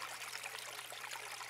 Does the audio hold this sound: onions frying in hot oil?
no